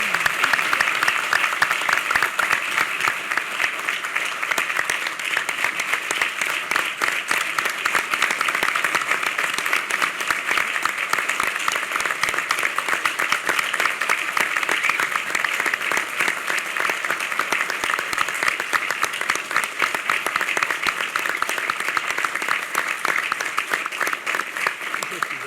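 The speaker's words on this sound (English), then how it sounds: "So let's give him a round of applause." Sustained applause from an audience at a New York wine, beer, spirits and cider summit hosted by the governor, dense steady clapping that holds at an even, fairly loud level throughout without pause.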